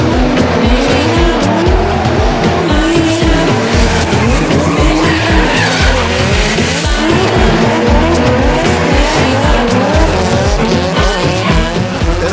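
An SR20-powered Toyota AE86 and other drift cars battle through a D1NZ Pro-Sport wall-ride section: engines scream continuously at close range while tires squeal and skid, loud and dense for the whole stretch.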